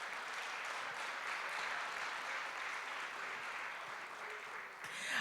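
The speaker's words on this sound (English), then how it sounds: "Tonight, yes, you can clap." Steady, dense applause from an audience at an awards ceremony, a continuous wash of clapping heard from some distance for several seconds.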